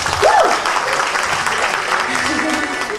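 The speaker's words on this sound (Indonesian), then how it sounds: "Tepuk tangan dulu dong, sekali lagi." Steady applause from a concert audience fills the room, continuous and fairly loud, with a brief voice rising over it at the start.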